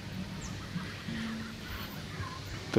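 Muscovy ducks give low, breathy calls nearby under a roofed shelter, a few short grunting notes over a soft outdoor background.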